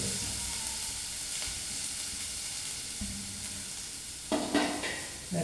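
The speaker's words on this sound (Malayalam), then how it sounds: "അതുകൊണ്ട് ഞാൻ ജസ്റ്റ് കടുവ് മാത്രം ഇട്ട് പൊട്ടിക്കുന്നു." Mustard seeds spluttering in hot oil, a steady close sizzle with sharper crackling pops bursting out near the end.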